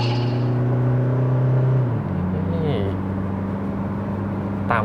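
A Toyota Hilux Revo Prerunner 2.4-litre four-cylinder 16-valve diesel pickup accelerates, its engine drone climbing steadily then dropping as it shifts gear, with a voice talking over the engine.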